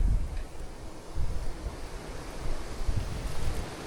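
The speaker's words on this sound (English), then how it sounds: "Got plenty of wind all of a sudden." Gusty wind blows by the water on an urban bass fishing outing, rumbling heavily against the microphone in uneven, close buffeting surges with no talk.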